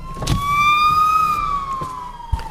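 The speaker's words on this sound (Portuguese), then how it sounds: "Reparem uma ambulância a passar." An ambulance siren passing on a road, a loud wailing tone rising then slowly falling in pitch as it goes by, over traffic rumble with a sharp knock near the end.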